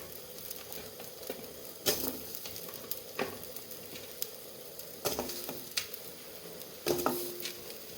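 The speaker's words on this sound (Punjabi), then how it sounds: "ਲੂਣ ਹੋ ਗਿਆ ਬਿਲਕੁਲ ਗਰਮ ਇਹਦੇ 'ਚ ਆਪਾਂ ਹੁਣੇ ਜਿਹੜੇ ਸਾਰੇ ਸੰਘਾੜੇ ਆ ਇਹਦੇ 'ਚ ਪਾ ਦਿੰਨੇ ਆ" Water chestnuts roast in hot salt in a pan, a soft continuous hiss broken by scattered scraping and rattling stirs and small clinks, close but fairly quiet, no talking.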